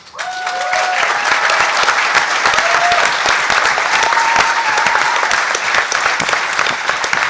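A hacker conference crowd breaks into loud, continuous applause for a speaker, dense clapping that starts abruptly and holds steady throughout.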